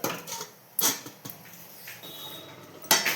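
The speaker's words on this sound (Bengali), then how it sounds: "এটাকে আমি চাপা দিয়ে দিই" Metal lid set onto a cooking pot on the stove, giving a couple of sharp clanks with softer clinks between, close and fairly loud in a quiet kitchen.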